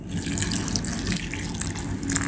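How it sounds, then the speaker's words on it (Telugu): A cup of hot water pours steadily into a bowl of dates, a close continuous splashing gush lasting a couple of seconds, with no talking. "ఖర్జూరాలు ఒక బౌల్లో వేసిన తర్వాత దీంట్లో 1 కప్పు వేడి నీళ్ళు పోసుకోవాలి"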